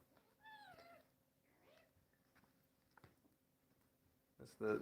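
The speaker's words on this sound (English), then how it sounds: "That's the smallest and the biggest kitten wrestling each other." Kittens wrestling together give a short series of high, rising meows near the start, then scuffling, light bumps, and a louder burst of play noise at the end, against a quiet indoor room.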